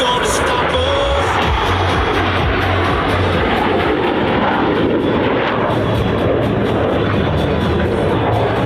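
Blue Angels jets flying in formation at the California Capital Airshow, a loud continuous jet roar filling the whole stretch, with music and an announcer's voice underneath.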